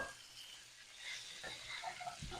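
Garden peppers frying in a skillet for a hamburger steak meal, a steady close sizzle with soft crackle and light stirring, no talking.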